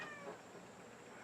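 A cat meows once, faint and short with a rising-falling tone, against a quiet background hum.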